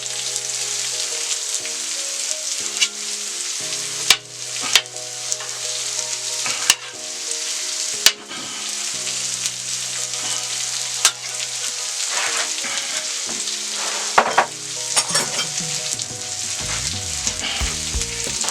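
Chicken and onions fry with a loud, steady sizzle on a Steelmadeusa steel griddle, broken by sharp scrapes and clanks of a spatula stirring the food.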